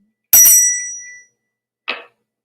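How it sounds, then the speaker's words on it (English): A bell rings twice: a bright, ringing strike with a long shimmering decay, then a shorter, softer second stroke about a second and a half later, with silence between and no voices. "when the bells are sweetly ringing, ding dong, ding dong."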